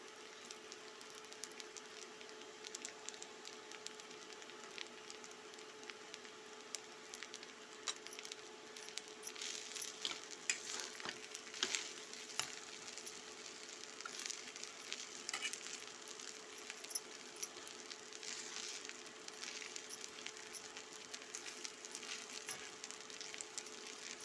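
Kurdai vegetable frying in a pan as it is stirred, a steady soft sizzle with faint scraping and clinks running alone throughout at low volume.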